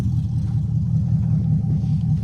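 A boxy Chevy with an LS engine swap drives along, its low engine rumble steady and close throughout with no voices over it.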